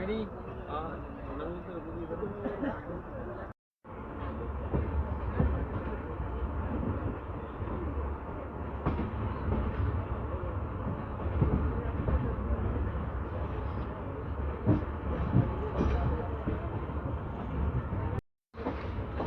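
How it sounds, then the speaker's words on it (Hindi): An LHB passenger train, the Hoshiarpur–Agra Cantt Express, running on its journey: a continuous heavy rumble with a low droning roar, broken by two abrupt silent cuts, with voices faintly present. "पैसेंजर ट्रेन है।"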